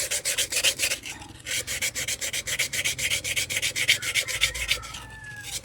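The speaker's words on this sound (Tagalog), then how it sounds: "lihain ko muna ito" Steady back-and-forth rubbing of sandpaper against the shaft of a faulty Astron electric motor, a rapid regular scraping rhythm sustained close up, with a brief pause early on.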